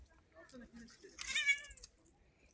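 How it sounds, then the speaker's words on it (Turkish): Several street cats at the Safranbolu museum overlook, meowing in short, close calls with a louder burst in the middle, mixed with faint background chatter. "15 tane kedi."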